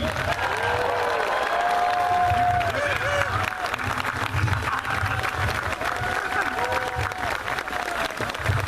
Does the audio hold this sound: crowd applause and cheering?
yes